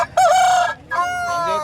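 A rooster at a hen market in Bhadradri Kothagudem gives a loud, close crow in two strained bursts, the first short and the second drawn out.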